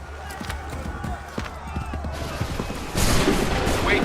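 A volley of muskets in Assassin's Creed III, a rapid crackle of shots rolling across the field, with a louder burst of gunfire near the end under a battlefield din.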